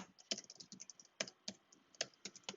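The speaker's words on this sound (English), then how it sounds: "I would like to figure this out by just kind of typing into my console" Rapid keystrokes on a computer keyboard while typing code into a console, a close, uneven patter of clicks with a few louder key hits and no voices.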